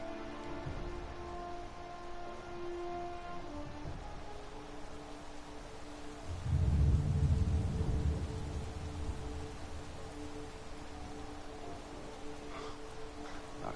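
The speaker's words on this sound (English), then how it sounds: "Great, now it's raining." Steady rain pours in Madden NFL 18 with a low, rumbling roll of thunder swelling midway and fading, the wash of rain continuing evenly beneath game music tones throughout.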